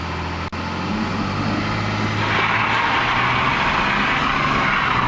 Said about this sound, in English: Power brake here, hold up some boost.